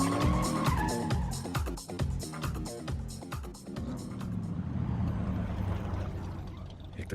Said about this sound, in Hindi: एक तो गाड़ी भी इतनी तेज चलाती है ना